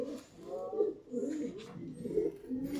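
A standing pigeon, held for sale, coos softly in repeated low, throaty rolls close by, with slight background noise.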